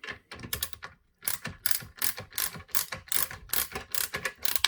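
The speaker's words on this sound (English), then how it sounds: "If you've never used a ratchet screwdriver, they are an absolute dream" An Amazon Basics ratchet socket screwdriver clicking close up, a steady run of quick ratcheting clicks in short rhythmic bursts while a screw is turned out.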